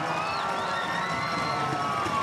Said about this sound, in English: We hear the crowd getting behind him slowly but surely here as he's being taken off the course